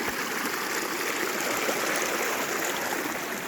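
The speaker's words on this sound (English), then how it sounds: "I'm trying not to fall in this little mini creek here" A small mountain creek along the Pacific Crest Trail rushing and burbling in a steady, close, broadband wash of flowing water, with no voices.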